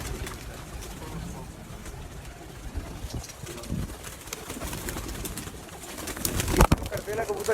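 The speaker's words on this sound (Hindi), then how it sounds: "कबूतरों का केज के अंदर आके आपको दिखा रहे हैं इनका व्यू।" Pigeons in a cage coo softly at close range, low throaty calls scattered over a rustling background, with a sharp clatter near the end.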